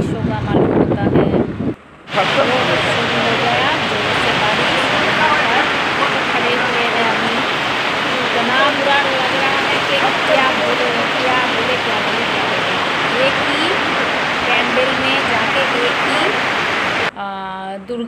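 Rain with wind near a bridge makes a dense, steady hiss that fills the recording for most of its length. It cuts off abruptly near the start and end, and faint voices may sit beneath it.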